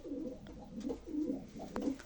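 Pigeons coo in a loft in a repeated, rhythmic series of soft throaty calls that rise and fall close by, with a few faint clicks and rustles between them.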